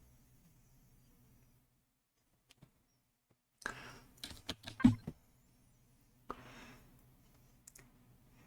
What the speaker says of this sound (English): Hits a few keys on the keyboard.